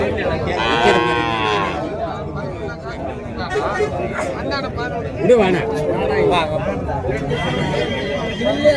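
A bull calf at a native cattle market lows in drawn-out calls amid steady crowd chatter and other livestock, loud and close, with people talking throughout.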